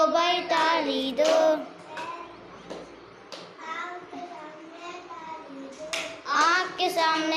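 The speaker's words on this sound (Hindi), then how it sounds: "ताली दो भाई ताली दो" Children clap their hands in rhythm during a Hindi clapping rhyme, sharp repeated claps mixed with their chanting voices up close.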